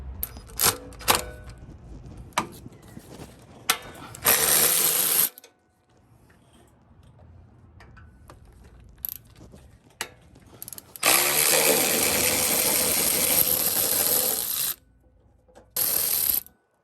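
Wrench work on the starter of a 1995 Chevy G20 van with a 350 5.7L engine: scattered metallic clicks and taps, then long bursts of rapid ratchet clicking, close and loud, separated by near silence.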